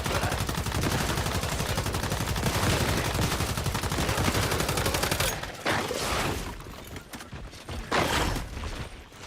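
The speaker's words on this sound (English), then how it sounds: "I don't use my machine gun nearly enough." Sustained rapid machine gun fire in the Once Human video game rattles loudly and continuously for several seconds, then breaks into shorter bursts with brief pauses, no voices over it.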